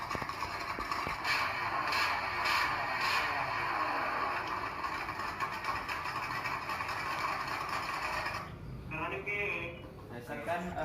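Vehicle engine running in a video played back during an online class, a steady mechanical hum with clatter, heard at moderate level, dropping away near the end while voices talk over it.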